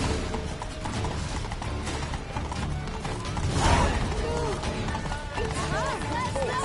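A horse gallops under a rider in The Witcher 3: Blood and Wine, hooves clopping steadily with creaking tack and a rumbling backdrop, while people talk over it.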